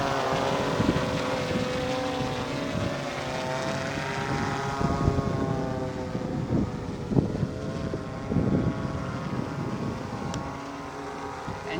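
Sony Airpeak S1 Pro drone hovering steadily, a continuous buzzing propeller drone with layered rotor harmonics at a constant, fairly loud level, holding altitude without change.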